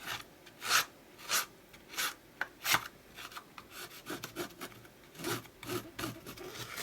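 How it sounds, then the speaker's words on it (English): A scruffing tool with an embedded blade rasps along the edges of a piece, distressing them in a run of distinct, fairly close scraping strokes with short pauses between. "So let's go around and scruff the edges."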